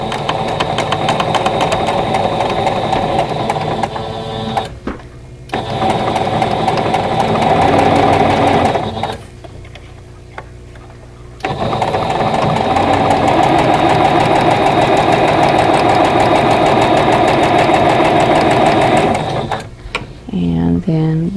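Domestic sewing machine stitching vintage Pieced Tulips quilt block pieces into rows, a steady loud mechanical whir running in long bursts with two short pauses between seams.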